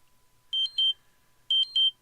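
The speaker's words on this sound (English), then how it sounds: "My phone is going off." A phone sounding a blood sugar alert: two pairs of short, bright electronic beeps, clear and close, with a pause between the pairs and near silence around them.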